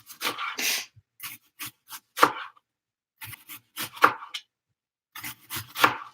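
A knife slices food into thin pieces on a cutting board, producing a series of short, crisp cuts in irregular bursts, close and moderately loud, with brief pauses between strokes.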